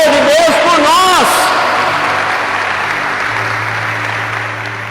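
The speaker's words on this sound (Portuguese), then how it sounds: "Aplauda a palavra de Deus" A church congregation applauds during a Portuguese-language sermon, the sustained crowd clapping rising under a voice at the start and then carrying on alone, steady and fairly loud, slowly thinning toward the end.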